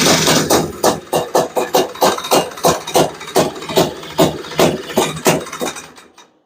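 A Honda FL350 Odyssey engine with a Lectron carburetor and the choke on pulses loudly and close in a fast, steady rhythmic chugging for several seconds, then cuts off abruptly.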